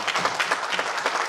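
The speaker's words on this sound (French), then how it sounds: "Applaudissez-vous, s'il vous plaît." Audience at a gathering in New York applauding themselves, a short, brisk patter of many hands clapping at moderate loudness, with no voices over it.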